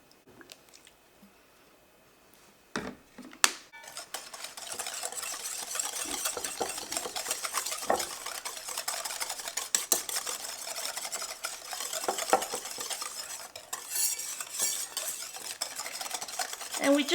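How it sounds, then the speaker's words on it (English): A spoon or whisk stirs almond flour cake batter with vanilla extract in a bowl, giving a continuous close scraping and clinking with a soft wet texture, steady and unbroken after a couple of opening knocks. "we just want to mix that till it's smooth"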